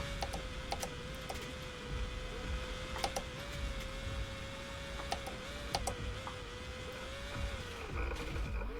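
A Porsche 944 engine in the BeamNG.drive driving simulator holds a steady, unchanging drone throughout, with light ticking and clicking sounds scattered over it and no talk.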